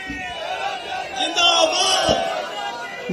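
A crowd at a political rally shouting slogans together, loud massed voices swelling in a burst and then easing, with a bright shout rising over the middle.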